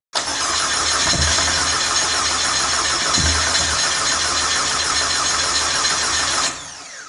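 A Citroën Xsara with a freshly swapped engine block cranks over with a loud starter whir broken by two brief thumps, then cuts off abruptly without catching.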